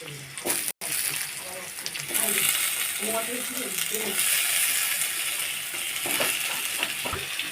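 Vegetables (potato, pumpkin, carrot) frying in a spice tempering for sabu khichuri give a moderate sizzle with stirring clatter, fairly close, while a person talks at intervals over it.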